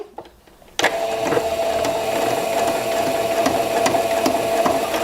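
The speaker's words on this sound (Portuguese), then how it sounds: "agora eu vou passar 2 costuras" A sewing machine starts up after a brief quiet moment and stitches a seam, a loud, steady, fast mechanical whirring and clatter that runs without a break to the end.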